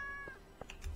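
A cat in the farming video game Stardew Valley gives a brief meow, a couple of short, quiet cries within about a second, heard alone.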